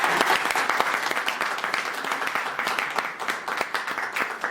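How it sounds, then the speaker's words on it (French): An audience at a press conference applauds itself, dense crowd clapping with crisp individual claps, continuous and moderately loud throughout. "Est-ce qu'on peut s'applaudir s'il vous plaît?"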